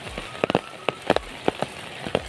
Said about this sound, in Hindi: इतना ज़्यादा बारिश हो रहा है पूछो मत